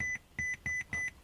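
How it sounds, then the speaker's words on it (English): Repeated electronic button beeps from a Boss Audio BV7284B mech-less digital media receiver in a car, five short evenly spaced tones close and clear, with no talking. "annoying beep"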